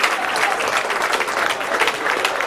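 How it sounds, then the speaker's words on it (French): Supporters applaud after a sports match, with dense, steady clapping filling the space at a constant loudness throughout. "Vous pouvez vous applaudir"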